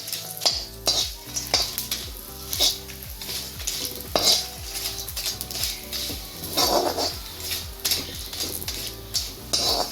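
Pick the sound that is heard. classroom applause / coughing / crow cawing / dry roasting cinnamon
dry roasting cinnamon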